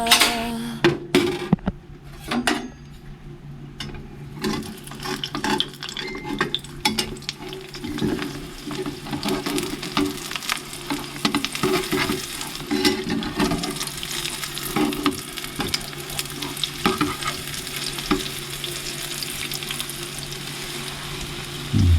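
Barako coffee cooking with egg: a steady sizzle and frying hiss runs throughout, broken by scraping stirs and clinks of a utensil against the pan, loudest near the start.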